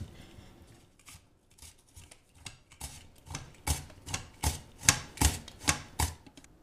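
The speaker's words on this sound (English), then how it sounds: "In order to get these uniform, I'm going to be using a mandolin." Potatoes slide over a mandoline slicer for potato leek soup, making a steady run of crisp, rhythmic slicing strokes that start soft and grow louder and more regular, close to the listener.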